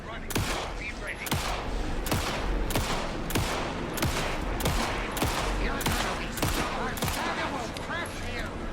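Loud, steady gunfire in Alan Wake 2: sharp shots repeat at a regular beat of roughly one per half second over a dense, noisy action background, with a voice speaking partway through.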